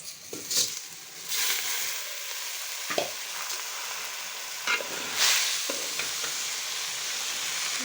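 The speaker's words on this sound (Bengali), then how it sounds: "এখন চালটা আমি ভালো মতো বেরেস্তার তেলের মধ্যে ভেজে নিব।" Polao rice is fried and stirred in oil left from frying onions, giving a continuous close sizzle with scraping spoon strokes and occasional louder bursts as the grains are turned in the pan.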